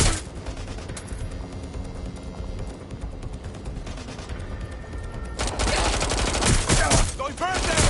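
Rapid bursts of automatic gunfire crackle through a PS5 shooter game, dense and continuous, then grow louder and heavier toward the end.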